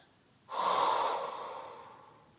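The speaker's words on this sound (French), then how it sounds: "dans une grande expiration par la bouche, évacuez tout le négatif qu'il peut y avoir dans votre tête" A single deep exhalation pushed out through the mouth during a guided sophrology relaxation exercise, a long soft breathy rush that swells quickly and then slowly fades over about two seconds, close and alone with no talking.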